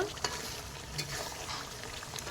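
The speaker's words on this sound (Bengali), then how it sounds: "মাংস সেদ্ধ হয়ে গেছে, দেখো। ভালো করে কষিয়ে নেব।" Boiled duck meat is stirred and sautéed in a pan, a soft low sizzle with scraping and stirring clatter, fairly quiet and close, no talking.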